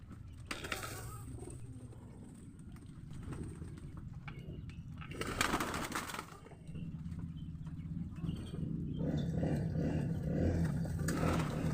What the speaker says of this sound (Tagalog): alaga kong kalapati